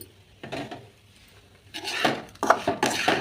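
Soft, spicy kakarakaya (bitter gourd) fry being spooned from the pan into a bowl after the stove is turned off, heard as several close metal scrapes and clinks that start quietly and grow louder.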